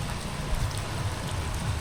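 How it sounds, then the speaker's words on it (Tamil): Steady rain keeps falling outdoors in Sri Lanka, a dense even patter that holds at a constant level throughout with no break and no voices. "மழை விடுற பாட்டு இல்லை இப்படியே பெய்து கொண்டே இருக்குது"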